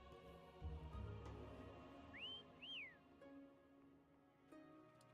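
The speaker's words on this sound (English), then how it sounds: "Try whistling." A short two-note whistle calls a companion in the Wuthering Waves video game, clear and close over a low game soundscape.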